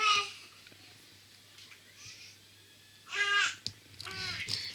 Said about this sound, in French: Il y a bébé qui gazouille derrière.